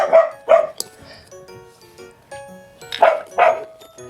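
A dog barks during a home meal of kimchi and pork belly. Two quick barks come first, then quieter whimpers, then two more barks, all close and alone with no talk over them.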